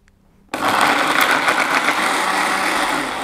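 A blender whirs loudly as it blends curly chilies, tamarind and water, starting abruptly after a brief quiet moment and then running as a steady, dense motor roar to the end.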